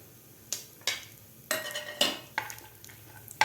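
Dry fruits fry in a spoonful of ghee in a pan, with soft background sizzle broken by a series of sharp stirring clicks and scrapes of a spoon against the pan, close and fairly quiet.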